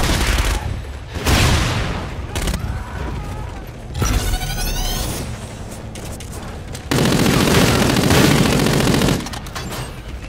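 Call of Duty gunfire rattles in bursts of rapid automatic shots, loud and close, broken by short pauses, with a long sustained volley near the end and faint radio-style voices among the game sounds.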